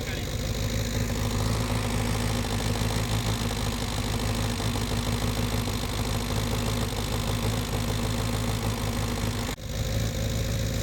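A Renault Kangoo engine running steadily at idle, a loud, close, continuous low rumble with faint knocking vibration and one brief dip near the end, with people talking over it.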